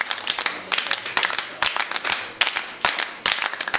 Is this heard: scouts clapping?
yes